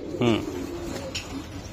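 A racing pigeon gives a single short, throaty coo near the start, then only a quiet room murmur remains.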